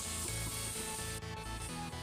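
Blended tomato paste sizzles loudly and steadily in a hot pan of frying masala for an egg roast, a dense continuous hiss with a rhythmic musical backing underneath.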